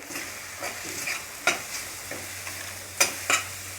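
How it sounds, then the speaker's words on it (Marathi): Spoons of garam masala, coriander powder and Kashmiri chili powder stirred into hot oil in a frying pan for a sprouted moong curry, giving a steady close sizzle with several sharp scraping stirs. "गरम मसाला आहे तो एक चमचा टाकायचा आहे त्यानंतर धना पावडर एक चमचा आणि कश्मीरी पावडर अर्धा चमचा हे व्यवस्थित असं मिक्स करून घेऊ"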